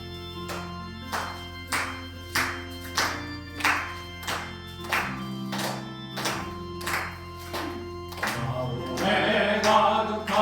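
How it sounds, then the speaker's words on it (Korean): Sunday worship congregation claps in an even beat, about one clap each second, while singing a hymn. The claps are crisp and close over sustained singing and accompaniment, and the song swells louder near the end. "우리 찬송가 257장 우리 박수 치면서 함께 부르십니다"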